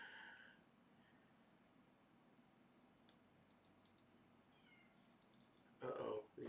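A cat meows near the microphone, asking to be let into a room during a late-night computer gaming session. Faint meows come early, then a louder, closer cry near the end, with light clicking in a quiet room.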